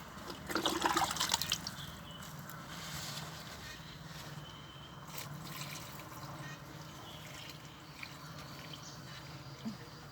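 Water is poured onto a potted plant, with a short splashy gush at the start and then a faint, steady trickle and drip.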